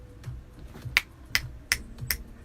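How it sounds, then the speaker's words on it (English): Real finger snaps played by hand for a music track, five crisp sharp snaps spaced at an even, unhurried rhythm, close and alone over a faint low background. "some finger snaps"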